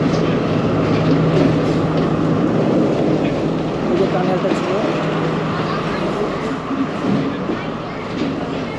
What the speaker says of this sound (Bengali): টানেলের মধ্যে দিয়ে ট্রেনটা যাচ্ছে এই ট্রান টানেল থেকে এখন বেরোচ্ছে